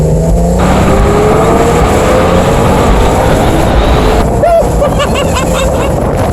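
A 2012 Porsche 911 Carrera 4 GTS Cabriolet engine revving to high RPM while driving through a corner, a loud, continuous rising engine roar with wind noise and a gear change near the end.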